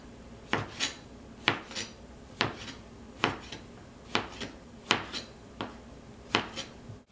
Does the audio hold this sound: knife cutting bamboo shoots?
yes